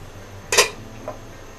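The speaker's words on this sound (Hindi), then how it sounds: "अब मैं इसे कवर करके रखने लगी" A lid is set down on a biryani pot with one sharp metallic clank, followed by a softer tap a moment later.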